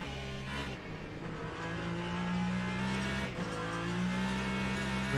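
Race cars in Le Mans Ultimate at Bahrain, including a Ferrari, droning steadily with sustained engine tones that shift pitch as they chase each other, loud and continuous with no talk.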